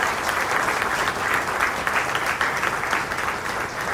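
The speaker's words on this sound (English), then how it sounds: "can we give a heartfelt applause to this gentleman" An audience at a 30th anniversary celebration for a tech company breaks into sustained applause, dense and even clapping from a sizable crowd that holds steady for the whole stretch.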